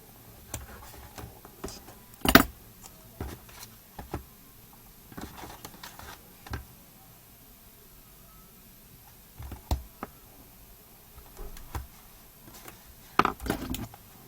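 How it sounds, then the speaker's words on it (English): Tape being cut off a mini album page, heard as quiet, scattered snips and clicks at irregular intervals, close by in a hushed room. "Be very careful as I cut this off"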